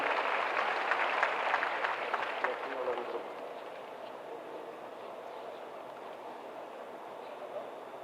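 An audience applauds new Bihar Police constables at an appointment-letter ceremony with CM Nitish Kumar, a dense burst of clapping for about three seconds that then thins into a quieter, scattered patter with murmuring in the hall.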